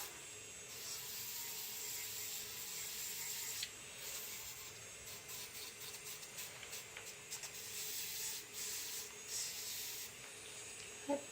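Air blower nozzle used to blow dust off a surface gives a faint, close hissing rush in several uneven bursts that rise and fall with short pauses between them.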